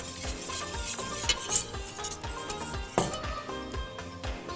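A hand whisk stirs flour and water together in a bowl, giving a steady rhythm of soft scraping and clicking strokes that repeat at close range with no voices.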